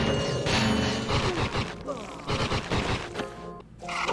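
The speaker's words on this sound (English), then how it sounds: "But we can use the suck cannon." A suck cannon fires in the Ratchet and Clank video game amid a busy run of sharp bursts, mechanical clanks and crashes that come in quick clusters over background game sound.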